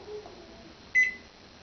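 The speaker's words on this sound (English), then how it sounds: "switch on my microwave mode, which is at the highest power level" A kitchen microwave oven is set to its highest power level and started, with a faint hum and then one short, clear beep from its keypad.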